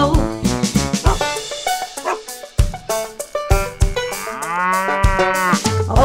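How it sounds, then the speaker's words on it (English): A cow moos repeatedly within an Old MacDonald children's nursery song, long loud lowing calls mixed with music and singing, prominent and close. "And on his farm he had a cow, E-I-E-I-O. With a moo moo here and a moo moo there"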